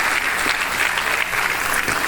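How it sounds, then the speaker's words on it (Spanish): A church congregation at a morning service bursts into loud, continuous applause, thick overlapping clapping filling the whole moment with no speech on top. "¿Cuánto le dan el aplauso a nuestro Salvador esta mañana?"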